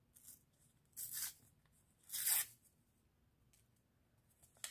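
A paper surprise packet holding a collection of plasters is torn open in two quick, crisp ripping bursts with soft rustling between them, close and quiet, with no talking.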